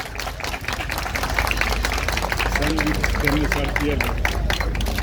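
Political party audience at a district youth chairman's event in Beykoz applauding to welcome a speaker to the microphone; dense, steady clapping fills the whole stretch, with voices mixed into the crowd noise.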